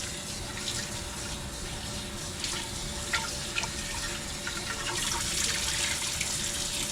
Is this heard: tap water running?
yes